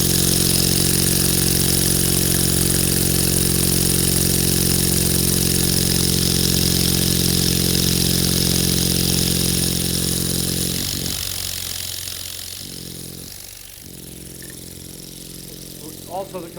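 A Tesla mechanical oscillator running on compressed air from a compressor at about 20 pounds gives off a steady, loud mechanical hum with a buzzing drone. Near the end it sputters and drops back, and talk is heard under it.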